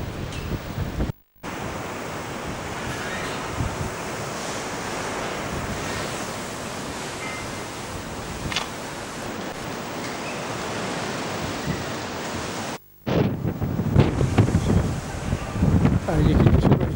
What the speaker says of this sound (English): Beneath the wind, it's a very windy day today